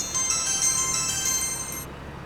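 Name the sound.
phone ringtone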